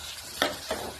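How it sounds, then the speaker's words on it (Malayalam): Tomatoes and crushed garlic fried in a pan for a simple tomato curry, two quick close scrapes of a spoon over a soft sizzle in a brief moment. "നമുക്ക് തക്കാളി ചേർത്ത് കൊടുക്കാം. എന്നിട്ട് ഒന്നുകൂടി"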